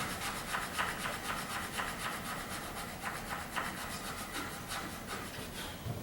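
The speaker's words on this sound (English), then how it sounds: "so you can see how you would do it with sandpaper" Wood being sanded by hand with sandpaper during a dovetail guitar neck reset, a steady rhythmic back-and-forth rasping of repeated strokes, close and continuous with no talking.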